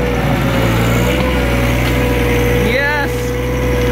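A John Deere 1023E compact tractor with a backhoe works at close range as it scoops dirt. The small engine keeps up a loud steady drone, a brief whining hydraulic sweep rises partway through, and people talk over it.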